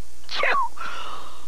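A cartoon piglet with a flu lets out a single short, breathy sneeze, performed by a voice actor, with a quick sharp onset and a fading tail.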